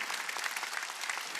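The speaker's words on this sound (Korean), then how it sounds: "박수치며 하나님께 영광을 드립니다." Korean church congregation at a Wednesday worship service breaking into steady, dense applause, many hands clapping together at close range with no break for the whole moment.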